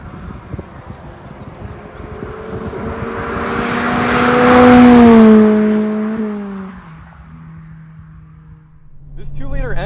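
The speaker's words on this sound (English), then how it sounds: "This 2-liter engine revs fairly high as well" A 2022 Mazda MX-5 Miata's 2-liter engine revs up toward its 7,500 rpm redline, its whine climbing and swelling louder as it approaches, then the pitch drops and the sound fades as it moves away.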